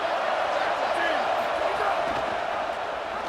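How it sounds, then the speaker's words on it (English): A football stadium crowd roars steadily behind the defense on third down in a game against Charleston, a dense sustained wall of cheering and noise throughout with no clear pauses. "Decibels rising as the crowd gets behind this defense on third down."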